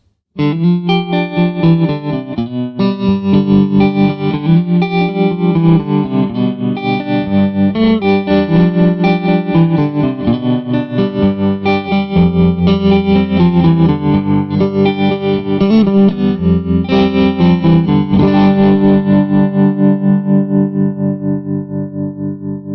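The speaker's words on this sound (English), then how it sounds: "Here we have a proper tremolo effect that enables you to get those cool old vintage tremolo sounds" An electric guitar plays chords and single notes through a 65 Amps amp with a pulsing vintage-style tremolo effect, sustained and loud with no talking.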